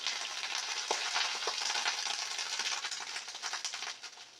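Water hits a hot pan while cooking beef tacos and sizzles loudly, a hiss that fades slightly toward the end.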